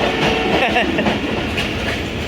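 A moving passenger train at night, heard from inside the carriage as a loud, steady rumble and rattle with faint rhythmic clatter of the wheels, a voice murmuring underneath.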